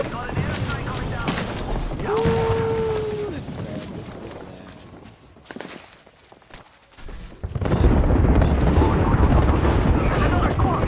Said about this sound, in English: got an airstrike coming down.